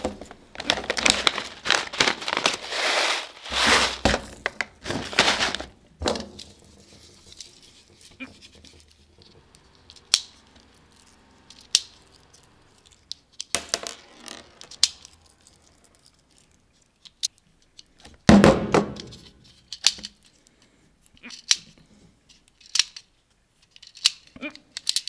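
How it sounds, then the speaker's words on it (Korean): A Toystar Glock 34 airsoft BB pistol with a metal kit is test fired, giving a series of sharp snapping shots in bursts and singles with mechanical clicks between them. Some quiet speech is heard. "일단 테스트로 제가 한번 좀 사격을 해보도록 할게요."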